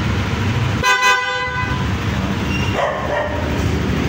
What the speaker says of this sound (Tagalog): Then kapag naka-flat, ayan, loud horn.